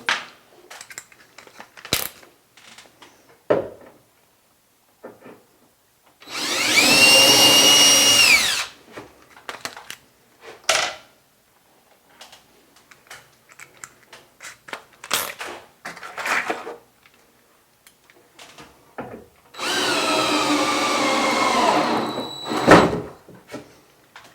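A power drill drives screws to fasten bed side rails, with two sustained whirring bursts close by, separated by clattering and handling noises of the assembly.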